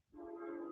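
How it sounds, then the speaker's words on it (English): A train approaching with a steady, sustained tonal rumble that swells in over a fraction of a second and then holds loud and even, with no talking. "now here comes the train"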